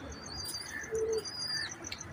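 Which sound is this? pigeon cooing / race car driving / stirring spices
pigeon cooing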